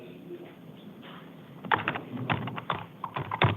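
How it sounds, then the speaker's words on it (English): Typing on a computer keyboard in a Maricopa County Superior Court courtroom, a quick run of loud, uneven key clacks that starts after a quiet stretch of room hum. "Oh, he's typing like my wife."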